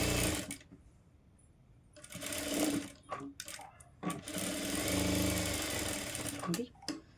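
A sewing machine runs several short, loud bursts of press stitching on a blouse, separated by brief stops and fabric handling, heard close up.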